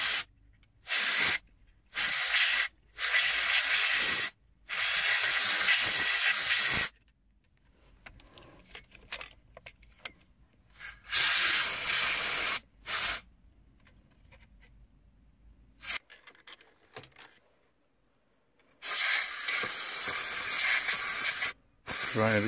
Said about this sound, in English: I'm just going to use some compressed air.